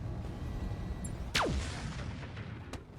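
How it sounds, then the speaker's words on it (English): A Gauss rifle shot in the mech game RogueTech: a single sharp, loud discharge with a rapidly falling whine and a decaying rumble that cuts through a low background hum. "we're just going to fire the Gauss rifle here to sink heat"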